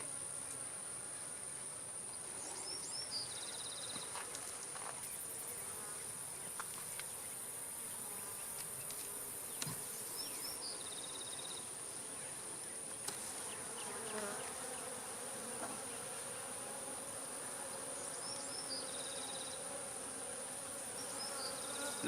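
Dense, steady buzzing of honey bees swarming around hives while a beekeeper handles queens in unsettled weather, continuous and close throughout, with a faint high whine above it and no speech.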